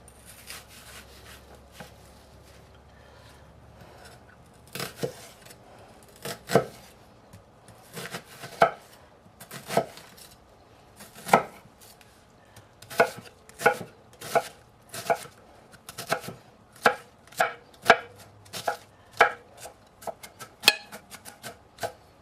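Onion being minced on a cutting board for pulled pork, sparse knife taps at first building into a quick run of sharp, close chopping strikes.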